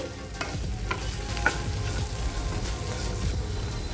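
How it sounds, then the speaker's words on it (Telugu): Onions with salt and turmeric frying in a pan while being stirred, a steady close sizzle with scraping stir strokes and small ticks throughout, no talk. "సాల్ట్ వేయడం వల్ల ఉల్లిపాయలు తొందరగా ఫ్రై అవుతాయండి"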